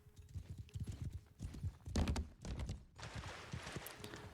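Horse hooves clip-clop in a real-time strategy game battle, a steady run of quick hoofbeats at moderate distance with a brief whinny-like tone, mixed under faint game ambience.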